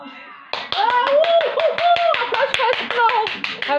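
Sharp, close hand claps in a quick rhythm, some voices and someone speaking over them after a brief quiet lead-in.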